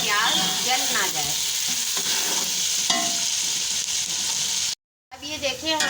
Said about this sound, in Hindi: अब ये हमारा भून रहा है और हम चमचा इसमें चलाते जा रहे हैं ताकि प्याज जल ना जाए।